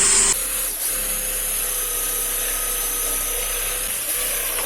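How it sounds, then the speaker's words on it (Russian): A power drill bores through the centre of a plastic barrel lid, giving a steady, loud grinding whine that runs almost unbroken from start to finish, with no talking. "Также просверливаем отверстие."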